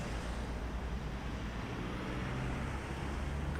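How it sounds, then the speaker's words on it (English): Heavy road traffic streams past on both sides, including large vehicles, a dense continuous roar of tyres and engines, close and loud without a break. "So now we've got traffic coming on both sides."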